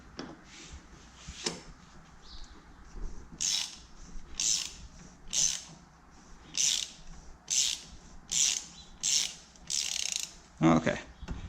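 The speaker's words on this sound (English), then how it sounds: "We're going to take a 1/2-inch ratchet. I'm going to take the extension bar" A 1/2-inch ratchet on an extension bar and 36mm socket loosens a part on a Porsche 911, giving about a dozen evenly spaced rasping ratchet strokes, close and fairly quiet.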